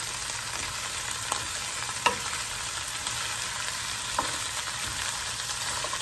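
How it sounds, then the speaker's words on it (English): Onions for French onion soup frying and caramelizing in a pan, a steady broadband sizzle with a few soft scrape-and-clack strokes of stirring, close and alone with no voices. "What we're trying to do here is caramelize and reduce the onions."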